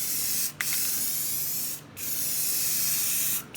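A can of Rust-Oleum gloss white spray paint is sprayed onto drop ceiling grid in three long, loud hissing bursts, with brief gaps between them where the nozzle is released.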